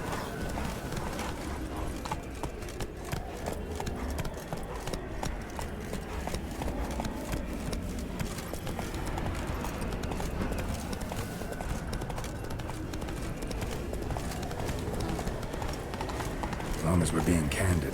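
The horse Roach gallops in The Witcher 3, a steady drumming of hoofbeats running continuously under ongoing talk by game characters.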